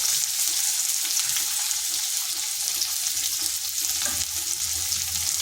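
Chopped onion and garlic fry lightly in a pan with a steady, close hiss of sizzling oil and faint stirring, continuous throughout with no voices.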